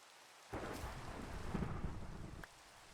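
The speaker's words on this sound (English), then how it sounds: "There we go with the thunder." A Minecraft thunderclap rolls in over steady in-game rain, a single broad rumble that swells after half a second, holds for about two seconds and then cuts off, loud against the soft rain bed.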